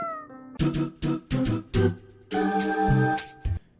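A video game cat meows in Order 13, a series of short clear meows followed by a longer drawn-out cry and a final brief one, close and alone.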